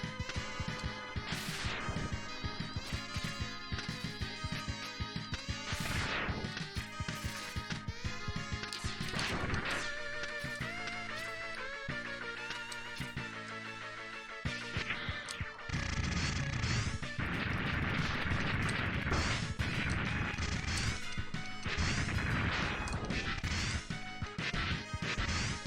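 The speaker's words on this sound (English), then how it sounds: "That's the double shot" Mega Man X2 buster shots fire in quick repeated blasts over driving game music, with sharp percussive hits layered across a busy, continuous soundtrack.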